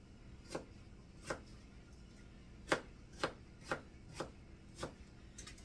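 A knife cuts an apple into pieces on a board, making about eight crisp, evenly spaced chops up close, each a short crunchy thud, with no talking.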